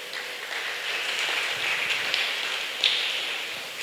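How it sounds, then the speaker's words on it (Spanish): Steady, even applause from a church congregation for the Lord, a soft wash of many hands clapping at moderate distance with no voices over it, holding level for the full stretch. "Denle un aplauso fuerte al Señor"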